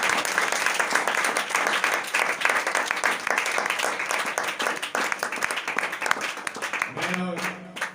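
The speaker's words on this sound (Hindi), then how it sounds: "जोरदार तालियां दें आपके लिए।" A church congregation claps loudly in dense, sustained applause that continues for several seconds before a voice briefly breaks in at the end.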